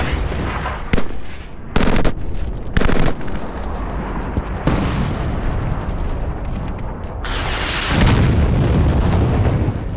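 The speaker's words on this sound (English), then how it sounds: "They're firing mortars and rockets from every direction and in great profusion." Old WWII combat film sound of mortar and rocket fire in a Pacific island invasion battle, heavy booming blasts and sharp bursts, loud and close, separated by brief gaps over a constant rumbling roar.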